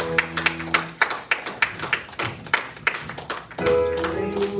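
Rhythmic hand claps from a church congregation during a Spanish-language worship service, steady and fairly loud over sustained keyboard chords and faint voices, with the music swelling near the end.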